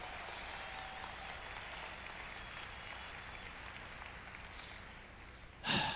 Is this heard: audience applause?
yes